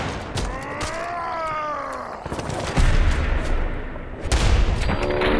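Short lever action rifle fire in Fallout 4 during combat; sharp, loud shots break out in bursts between stretches of a droning voice-like sound, with heavy booms near the end.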